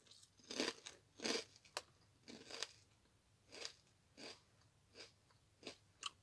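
Crunchy lentil crisps being bitten and chewed up close, a steady series of soft crackling crunches with brief gaps between bites and no talking.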